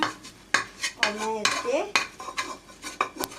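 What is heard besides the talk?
mixing flaxseed ladoo ingredients together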